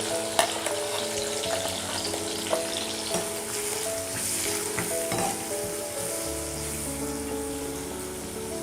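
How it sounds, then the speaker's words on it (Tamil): A finely chopped medium onion fries in hot oil for a pepper chicken dish, giving a steady close sizzle broken by soft scrapes and clicks of stirring, with no talk. "வெங்காயம் ப்ரௌன் ஆகிற வரைக்கும் வதக்கிக்கோங்க."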